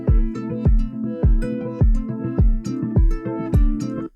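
Step-sequenced guitar sample layers in Ableton Simpler play a loud, steady rhythmic pattern of plucked, harmonic chords, with some layers filtering in and out at different moments, heard alone without talk.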